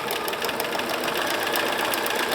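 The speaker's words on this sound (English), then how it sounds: "So I have this now on my zigzag. It's set on width of 2 and length of hardly anything, because we're doing a satin stitch." A sewing machine on a zigzag setting with narrow width and very short stitch length runs a dense satin stitch for applique, a continuous rapid mechanical chatter heard up close.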